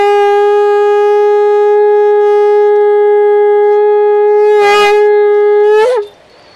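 Conch shell blown at a Kanyakumari seashell market stall, one long loud steady horn-like tone held for about six seconds before cutting off, close and alone.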